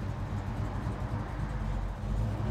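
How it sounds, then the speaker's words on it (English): A 1969 Chevrolet Chevelle SS muscle car engine runs on the road with a deep, steady low rumble, fairly faint and unbroken, with no voices. "That's a muscle car sound."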